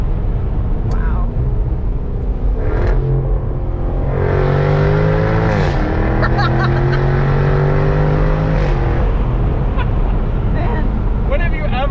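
A 2022 Lexus LC 500 convertible engine revs and accelerates in loud, sustained rising pulls with gear-change dips, heard from inside the car while people talk over it.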